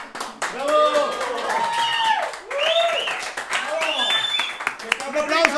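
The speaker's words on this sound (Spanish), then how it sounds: "¡Esta fue Camorrita! ¡Bravo! ¡Un aplauso!" A comedy club audience gives steady, sustained clapping for comedian Camorrita after her stand-up set. An emcee shouts excitedly over the applause nearly the whole time.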